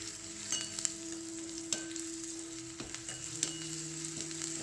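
Onions fry in a tempering pan with a light, even sizzle, and occasional taps and scrapes come from stirring. The sound is fairly quiet and close, with no talking.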